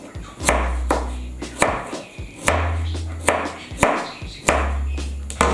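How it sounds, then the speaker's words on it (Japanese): A knife thinly slicing food, likely broccoli stems, on a cutting board, with about eight crisp close chops at a steady rhythm, no talk. "薄切りにしていきます。"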